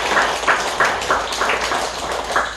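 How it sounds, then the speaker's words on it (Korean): A church congregation claps along in a steady rhythmic beat, dense and continuous with many hands together, loud and close throughout with no talk over it. "이렇게 박수 한번 쳐볼까요?"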